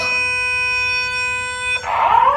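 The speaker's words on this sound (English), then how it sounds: "Fire alarm. That's the bell." A loud, steady fire alarm bell rings continuously at close range, then breaks into a harsher, noisier clatter near the end.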